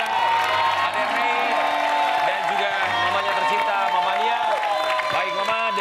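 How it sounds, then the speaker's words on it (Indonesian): A television dating show studio audience claps and cheers for a single man named Ade Ray, a dense, steady wash of applause and whoops filling the clip, with music and voices mixed underneath. "boleh kita berikan tepuk tangan untuk single man kita, Ade Ray"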